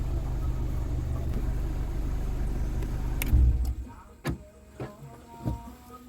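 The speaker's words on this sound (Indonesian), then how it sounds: "kita matikan mesin." A Honda Jazz GD3 with automatic transmission, idling after its radiator fan has cycled twice, is switched off: steady engine rumble that stops abruptly partway through, followed by a few faint clicks and knocks in the quiet.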